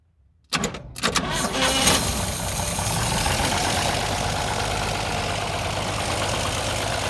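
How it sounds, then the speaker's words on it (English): A 1960 International B120 truck, starting for the first time since the 1970s, cranks briefly and catches, then settles into a steady rumbling idle that runs close and loud to the end. "Fires up pretty good now."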